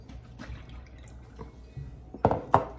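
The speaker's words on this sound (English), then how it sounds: "So now we're going to stir in 1 cup of milk" Milk being stirred into Amish friendship bread starter in a bowl, soft wet sloshes and drips, with a few louder splashy pours near the end.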